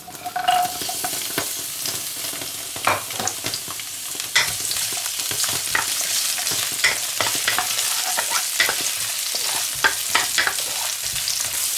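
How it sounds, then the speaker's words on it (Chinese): Scallion, ginger and garlic stir-frying in hot oil in a home kitchen, a dense continuous sizzle with repeated scraping strokes of the spatula, close and loud. "油热要葱姜蒜倒进去"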